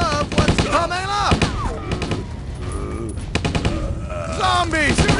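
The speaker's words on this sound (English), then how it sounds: "Shooting now!" Rapid gunfire bursts from the video game Stubbs the Zombie, sharp cracks mixed with game voices and effects, loud and close, with a lull in the middle before more shots at the end.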